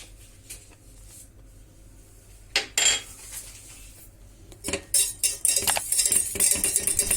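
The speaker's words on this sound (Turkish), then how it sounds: "Tekrar karıştırıyorum." A spoon stirs persimmon milk pudding in a pot, scraping and clinking against the sides in two bursts after a quiet start, close and moderately loud with no talking.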